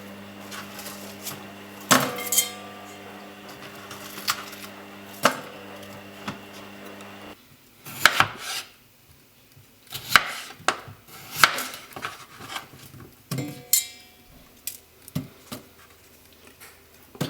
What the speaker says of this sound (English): Cut them into even sized chunks.